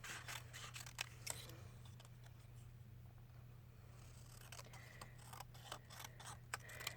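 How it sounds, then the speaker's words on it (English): Scissors cut a feather shape out of colored paper. Quiet, close snips come in small clusters with a pause in the middle, over a faint steady low hum. "I'm going to cut a feather shape from that."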